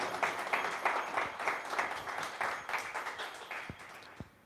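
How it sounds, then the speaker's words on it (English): A small group claps in rapid, scattered applause at an annual general meeting, fairly faint, tapering off with a few final claps. "I think you all deserve to give yourselves a round of applause"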